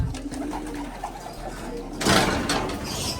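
A seven-year-old pigeon coos in low, throaty bursts close by, then a sudden rustling burst, like flapping wings, breaks in near the end.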